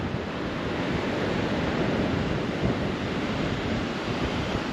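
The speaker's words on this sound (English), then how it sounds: "It is very windy." Strong wind roars across the microphone at a Cape Town seashore in a steady, broad rush, with crashing surf blended underneath.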